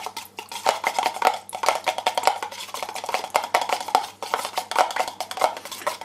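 Tru Oil wood finish stirred in a small container, giving quick repeated clinks and scrapes of a utensil against the sides in an uneven, busy rhythm, close and alone.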